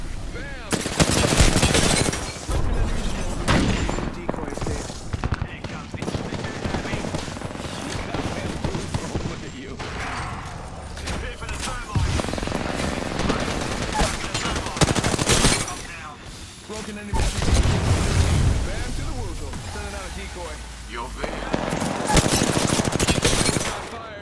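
Sustained automatic gunfire and heavy blasts from an Apex Legends firefight roll through in long, loud volleys with brief lulls, with game voices mixed underneath.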